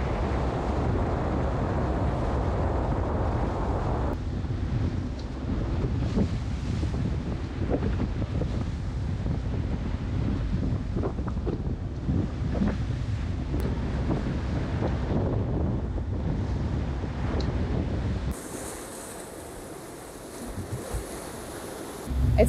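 Steady wind and waves at sea aboard a sailing catamaran, with heavy low rumble, wind buffeting the microphone and constant water rush, loud and continuous, easing near the end.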